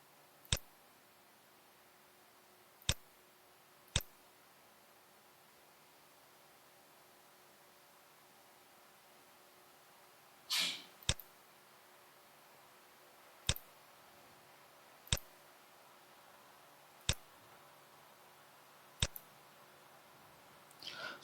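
Computer mouse clicks, single sharp isolated ticks spaced a few seconds apart, about eight in all, with one brief rustle of handling midway, close and crisp over a quiet room background.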